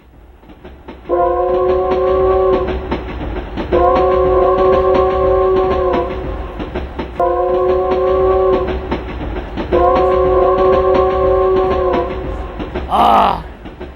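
A train arrives at Harbin station with a loud, steady rumble of rolling wagons. Four sustained horn blasts sound at intervals over the rumble, and a brief squeal near the end cuts through it. The effect belongs to a senior citizens' puppet theatre performance.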